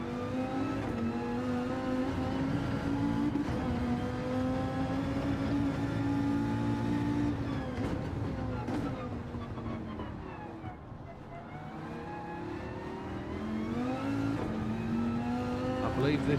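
A race car engine in Gran Turismo drones steadily with harmonic whine, pitch rising through gears, dipping briefly as it lifts off for a corner, then climbing again under acceleration, continuous and prominent with a voice talking over it.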